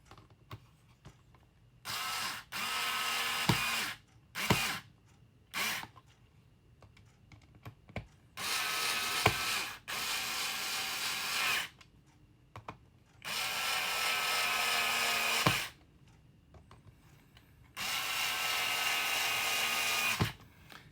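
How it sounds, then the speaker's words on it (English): Electric screwdriver driving screws while assembling a Tamiya XV-01 Lancia Delta Integrale RC car kit, several loud whirring bursts of one to three seconds separated by short pauses and faint handling clicks. "I'm cheating with the electric screwdriver"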